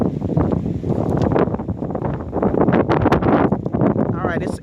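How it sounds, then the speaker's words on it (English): Strong gusts buffet an outdoor phone microphone, producing loud, rumbling thumps and roaring bursts that come and go in rapid pulses. "it's super windy"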